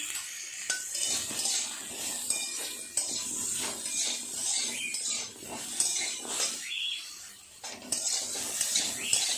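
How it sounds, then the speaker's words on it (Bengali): Raw mango pieces with a little turmeric and salt are stirred and lightly fried in a pan for chutney: repeated scraping and clinking of a spoon against metal, with faint sizzling underneath, irregular and close. "আমটা একটু নেড়ে চেড়ে নিয়েছি, হালকা করে ভাজা"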